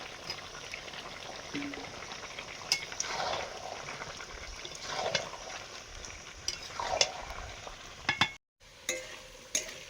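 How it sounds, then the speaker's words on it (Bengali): Potatoes being stirred into braised meat in a pan, giving steady scraping stirs and a soft sizzle of frying throughout, with a brief break near the end. "মাংস কষানো হয়ে গেছে, মাংসের আলুটা দিয়ে দিচ্ছি এখন"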